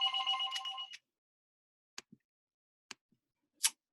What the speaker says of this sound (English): You may have heard the phone ring.